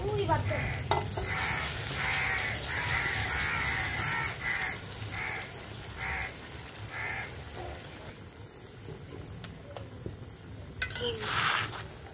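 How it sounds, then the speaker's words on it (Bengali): Spice-rinse water poured into a pan of Nawabi-style katla fish curry, giving a steady sizzle with stirring scrapes and a few pot clatters, moderately loud and continuous, easing off near the end. "এখন দিয়ে দেব মশলা ধোয়া জল,"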